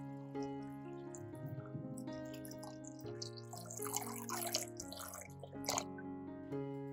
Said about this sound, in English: Add about 500 milliliters of water.